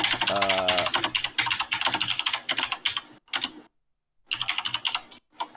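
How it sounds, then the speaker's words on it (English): Fast clacking keystrokes on a mechanical keyboard sound close and loud in dense bursts, pausing briefly near the end before another quick flurry, with a short tonal blip early on and no voices. "Mechanical keyboard for the win."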